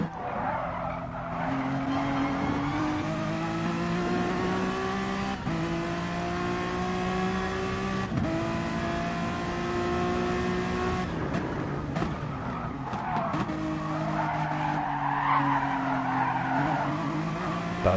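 Honda NSX race cars scream around a circuit, high-revving engines rising and falling through gear changes with bursts of tire squeal, loud and close, steady throughout.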